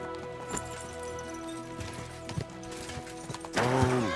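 Horse hooves clop in Kingdom Come: Deliverance II, a light rhythmic patter under steady game music, with a louder horse snort or whinny near the end.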